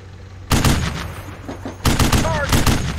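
Gunfire in the Steel Beasts tank simulator: two loud bursts of heavy close-range firing, each a dense rattle of rapid shots lasting over a second, with a quieter stretch of scattered fire between them.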